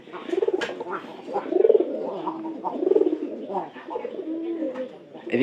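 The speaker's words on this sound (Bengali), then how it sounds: "এই কবুতরের ডাক কিন্তু অনেক সুন্দর" Pigeons in a loft coo repeatedly in soft, rolling phrases, several calls rising and falling close by over a few seconds, with light background noise between them.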